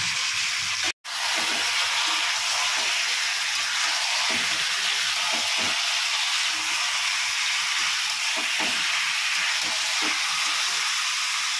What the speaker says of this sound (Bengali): চিকেনটা দিয়ে কষিয়ে নেব।